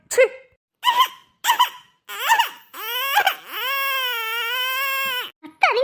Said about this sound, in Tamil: குழந்தை அழுவுது